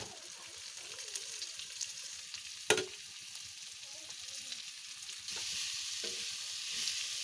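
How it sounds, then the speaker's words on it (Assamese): Banana flower frying with spices in a pan, a soft continuous sizzle broken by stirring scrapes and one sharp clatter near the middle, fairly quiet throughout with no talk. "মছলাখিনিও সিজিলে, সেইকাৰণে এতিয়া কলডিলখিনি দি লওঁ"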